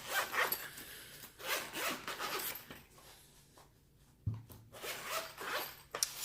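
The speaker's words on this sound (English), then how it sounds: "I'll unzip this." A zippered case of colored pencils being unzipped, giving a run of close, rasping zipper pulls with short pauses between strokes, alone without talk.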